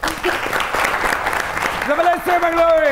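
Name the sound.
audience applause for singer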